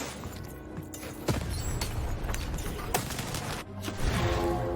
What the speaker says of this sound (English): The Baroness now has 3 cannons.